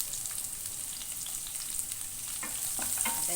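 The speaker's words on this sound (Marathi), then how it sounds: "हे लसून बघा मी फ्राय करून घेते" Garlic and cut chillies frying in hot oil for an okra sabzi, a continuous soft crackling sizzle without any voices.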